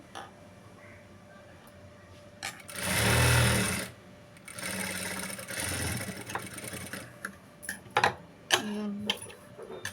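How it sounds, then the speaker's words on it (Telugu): A sewing machine stitches a blouse around a round-neck piping, with one loud, close burst followed by a softer, longer run and scattered handling clicks. "హాఫ్ ఇంచ్ అనేది ఇలా స్టిచ్ వేసుకోవాలి"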